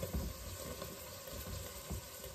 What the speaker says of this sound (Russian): Лук обжарился, я добавляю туда морковку и перец.